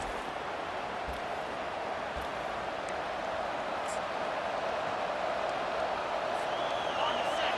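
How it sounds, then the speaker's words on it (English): A dense, steady roar from a stadium crowd in College Football 25 fills the whole stretch as a broad, even wash of noise without clear breaks. "This crowd going to try to make life miserable for these guys."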